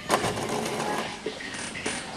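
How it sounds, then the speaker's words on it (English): An Epson L120 inkjet printer's mechanism whirs and clicks after being restarted, a close, low-level mechanical rumble with a few soft knocks. "you can hear this mechanic sound. This means the printer working again."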